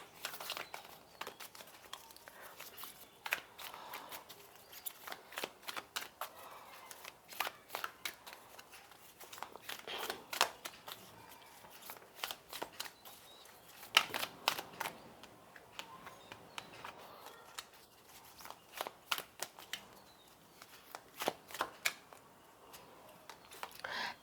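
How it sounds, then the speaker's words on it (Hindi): Oracle cards are shuffled and drawn in a quiet room, producing repeated soft crisp flicks and riffles in irregular bursts, with very little talking. "और एक कार्ड मैं और निकालना चाहूँगी आपके लिए"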